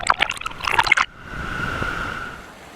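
River water and a small waterfall in the Narrows of Zion National Park: a steady, moderately loud rushing wash that follows about a second of louder, choppy splashing bursts.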